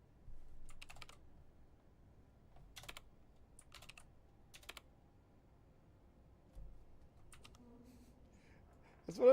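Keys are tapped on a computer keyboard in short, sparse clusters of quiet clicks separated by pauses, close and faint against a low background hum.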